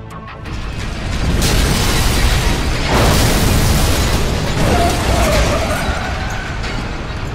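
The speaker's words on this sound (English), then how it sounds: "You're safe to detonate now. Boom!" A detonation blast in the shooter Vanquish on Xbox 360, a loud sustained rumbling roar that swells after a second and rolls on for several seconds with crackling debris, no voices.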